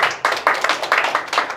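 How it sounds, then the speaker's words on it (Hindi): An audience claps for a speaker at a live show, a fairly loud burst of hand clapping in uneven rhythm with no talk over it. "मैं चाहता हूँ यार एक बार ना जोरदार तालियां हो इंदिरा सर के लिए,"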